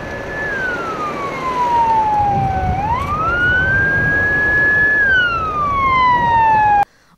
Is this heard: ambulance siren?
yes